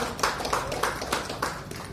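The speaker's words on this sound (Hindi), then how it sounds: "एंटोआ को तो एक बार जोरदार तालियां इस एंटोआ के लिए" An audience at a tourism trade meet claps in short rhythmic bursts, a few regular beats about a third of a second apart, fairly close and moderately loud, with no talking over it.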